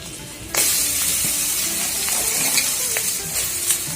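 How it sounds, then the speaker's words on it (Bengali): Chopped cabbage dropped into a pan of frying onions, setting off a loud, steady sizzle with a sudden burst at the start and light stirring scrapes throughout. "তো পেঁয়াজটা একটু সময় ভেজে নিয়েছি, আর এখন দিচ্ছি বাঁধাকপি কুচি।"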